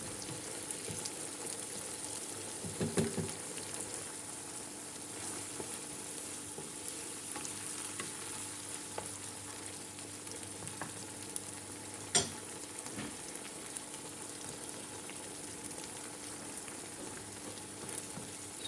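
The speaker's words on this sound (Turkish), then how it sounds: "Yeniden karıştırıp 1-2 dakika daha pişmesini sağlıyorum." Minced meat simmers in a pan after hot water is added, a low steady sizzle and bubbling with occasional stirring scrapes and one sharp tap of a utensil, fairly faint and continuous throughout.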